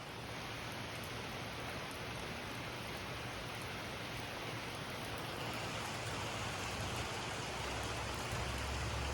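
Light rain falls steadily outside a garage during a tornado warning, a continuous even hiss with a low rumble creeping in toward the end and no voices.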